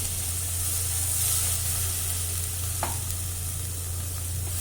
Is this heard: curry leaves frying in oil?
yes